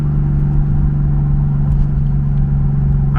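Turbocharged BMW E36 engine pulling hard in a lower gear, with a steady, loud low engine drone and a strong tonal hum that holds evenly throughout, no voices over it.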